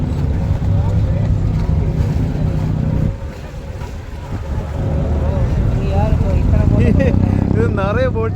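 A boat cruises on the water in Dubai with a continuous engine drone and buffeting wind noise, dipping briefly midway, while voices talk over it toward the end.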